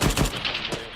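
Gunfire during a military convoy field training exercise: a few quick, loud cracks and thumps in rapid succession, close by, followed by rougher bursts fading out.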